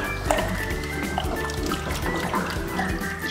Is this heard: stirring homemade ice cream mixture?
yes